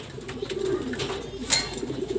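Racing pigeons in a loft coo softly and scuffle as they start to fight, with low throaty calls and a sudden sharp flutter midway, fairly faint and close.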